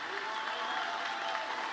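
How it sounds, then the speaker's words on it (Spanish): A live audience claps in steady, continuous applause at a Miami talk show taping, a dense even wash of many hands that holds at one loudness throughout the short stretch. "que aplaudan como a ustedes les gustaría que les aplaudieran cuando estén aquí"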